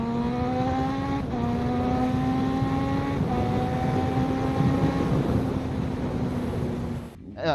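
A Suzuki GSX-R 1000 motorcycle engine whines steadily while riding, its pitch climbing through the gears with brief shift dips, loud and close under wind noise.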